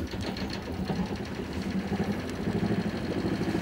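A used sailboat's inboard engine idles steadily while the boat is moored with the gear engaged, giving a continuous, fairly loud mechanical chug with a fast rhythmic pulse and no talk.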